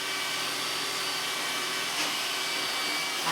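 An iRobot Roomba S9+ robot vacuum runs close by with a steady, loud whirring hum, its motor noise constant while it grinds against a rail, with a slight scrape near the middle.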